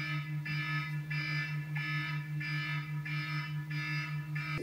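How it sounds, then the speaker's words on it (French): Alarm clock ringing in a bedroom, a repeating electronic tone pulsing in regular bursts of roughly half a second over a steady low hum, moderately faint, with no talk. "C'est tout simplement le réveil de mon copain."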